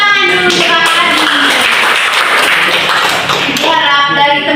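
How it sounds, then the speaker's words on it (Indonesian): Children in a primary school classroom clap together after a student performance of gong music and caci dance, a loud, steady burst of many small hands with tapping textures and voices mixed in. "Tepuk tangan dulu."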